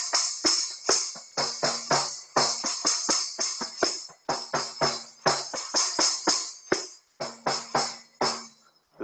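Kanjira, a small frame drum with jingles, played in a six-beat bhajan pattern: a steady stream of crisp slaps and bright jingle rattles in a repeating cycle, close and clear, with no talk.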